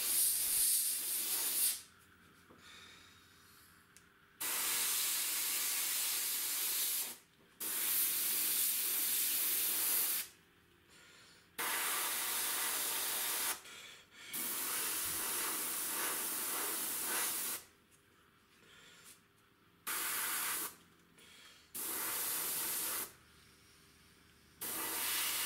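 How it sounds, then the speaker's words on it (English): An airbrush sprays paint through a texture effects template in a series of hissing bursts, each lasting a few seconds and separated by short pauses, close and clear with no talking. "Now to add a bit more texture, I'm now using my texture effects template by Gerald Mendez."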